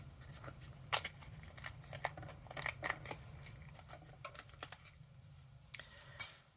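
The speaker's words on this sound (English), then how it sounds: "It will actually be easier if I leave this backing part on and hopefully cut through the foam part." Scissors snip through craft foam with its backing left on, a run of close, crisp cuts and rustles spaced unevenly over a low steady hum, ending in one louder snip.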